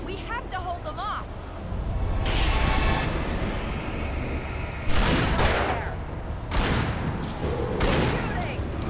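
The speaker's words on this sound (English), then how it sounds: "Shooting!" Gunshots ring out in Alan Wake Remastered, with a sustained burst of firing in the middle followed by several sharp, loud individual blasts, all mixed with excited speech and in-game noise.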